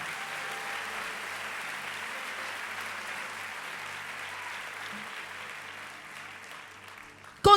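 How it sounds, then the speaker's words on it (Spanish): A church congregation claps steadily for several seconds, a dense, even wash of applause that fades slightly before a sharp close burst at the end. "Dale un aplauso fuerte al Señor."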